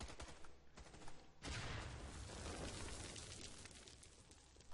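Grenade explosion in a video game, a loud rumbling blast that follows a burst of rapid gunfire and settles into a sustained roar of debris and noise.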